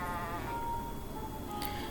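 A single sheep bleats in a thin, drawn-out call over a steady background hum, brief and fairly faint.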